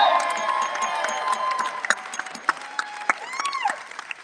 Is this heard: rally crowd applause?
yes